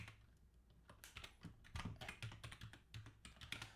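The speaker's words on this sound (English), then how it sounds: "being on YouTube has made my typing better" Fast typing on a computer keyboard, with dense clusters of crisp key clicks and clacks, close and fairly quiet, with no one talking.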